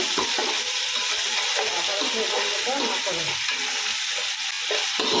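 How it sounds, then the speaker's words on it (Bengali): Onion and ginger paste sizzles and fries in a pan for pilaf, with steady close stirring scrapes over a continuous hiss and no talking. "ভাজা ভাজা করে নিব।"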